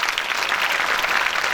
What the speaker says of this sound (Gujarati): તો એમના માટે ખાસ તાળી પાડજો